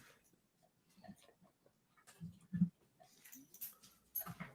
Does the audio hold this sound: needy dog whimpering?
yes